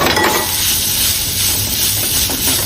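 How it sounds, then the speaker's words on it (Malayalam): Grated coconut and coriander roasting in a pan for Kerala-style sambar, a steady dense sizzle and crackle of frying close by, continuous without pauses or talk. "നമുക്ക് നാളികേരം കൂടെ ഇട്ടിട്ട് നല്ലോണം ചുവക്കനെ വറുക്കണം കേട്ടോ"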